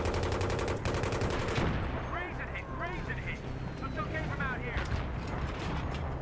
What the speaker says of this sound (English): Whoop, something's shooting.